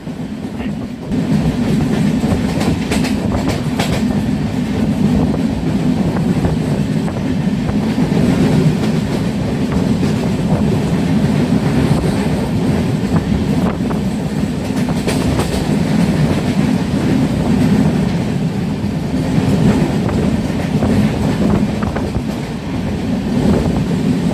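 A train near Chaibasa in Jharkhand, India, rolls steadily along the rails during monsoon season with a continuous rumble and rhythmic clickety-clack, loud and close, wind buffeting throughout.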